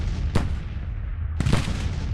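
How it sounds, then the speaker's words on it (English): Two heavy artillery blasts from Civil War-era cannon batteries in the strategy game Grand Tactician: The Civil War, each a sharp deep report that fades into a low, continuous battlefield rumble. "The artillery is doing some great work"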